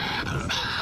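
A Tasmanian devil screams in a harsh, raspy burst lasting under a second, loud and close, sounding much like a growling dog.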